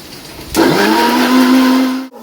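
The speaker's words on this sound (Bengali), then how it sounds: "এবার মিক্সিতে পেস্ট করে নিচ্ছি।" An electric mixer grinder in a home kitchen whirs up abruptly, holding a steady, loud motor whine for about a second and a half while grinding a paste, then cuts off sharply.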